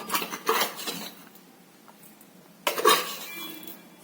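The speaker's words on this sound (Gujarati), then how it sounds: "હવે એમાં ખાંડ ઉમેરી દઈશું પછી એને મિક્સ કરી દઈશું" A spoon clinks and scrapes against a dish while sugar is mixed into lemon juice, two bursts of clattering stirring separated by a quieter pause, close and fairly loud.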